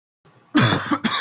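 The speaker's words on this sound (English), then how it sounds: "I can't quit coughing." A man coughs, one harsh close burst followed by a second shorter cough, loud and alone after a brief quiet breath.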